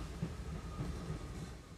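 Cartoon train locomotive pulling a string of wagons along rails, a low steady rumble with soft rhythmic clicks of wheels over rail joints, faint and continuous, alone without talk.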